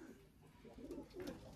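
Red pigeons coo softly in their loft, a few low, rounded calls rising and falling over about a second and a half at a quiet, close distance.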